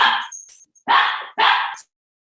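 A dog barks three times in quick succession, each bark loud, close and sharp, with short silent gaps between them and a brief whine after the first.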